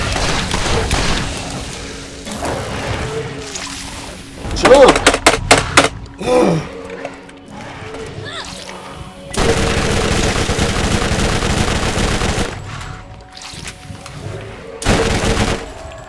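Gunfire in the video game Borderlands comes in bursts of sharp, rapid shots that cluster and then break off, separated by quieter stretches. A player talks intermittently over the action.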